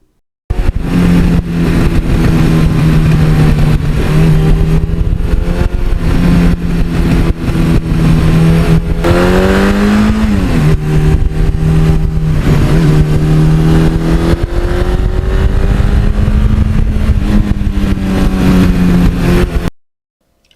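A 1982 Suzuki GS1100E motorcycle engine, loud and close, idling and revving repeatedly, its pitch rising and falling through several throttle blips before cutting off at the end.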